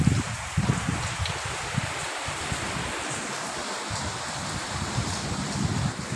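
Steady rain hisses and patters continuously across the whole stretch, a broad even wash of falling water with no voices.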